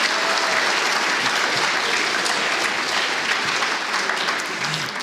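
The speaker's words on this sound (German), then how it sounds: "Ja, gerne Applaus." Steady, dense audience applause at a church worship service fills the whole stretch, loud and continuous with a slight fade near the end and no talking over it.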